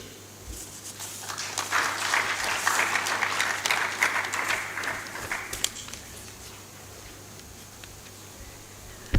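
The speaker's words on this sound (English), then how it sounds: "One more round of applause for His Excellency, the German Ambassador to Tanzania" Audience applause fills a conference hall at a high-level East African forum on climate change and food security, honoring the German Ambassador to Tanzania. Dense, steady clapping lasts about five seconds, then thins out and fades into a quiet room.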